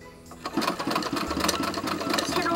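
A home sewing machine, used by an elderly woman making her own clothes, starts up and runs with a steady close mechanical whir and rapid needle clatter that builds slightly in loudness.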